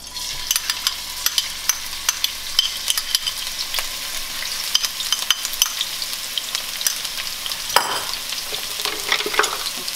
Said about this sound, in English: when your oil hot enough already, just put the chili and garlic.